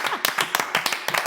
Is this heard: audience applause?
yes